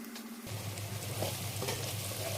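Turmeric and cumin powder fry with green chillies in a pan; after a brief quiet moment a steady hiss of frying starts and carries on under light stirring scrapes.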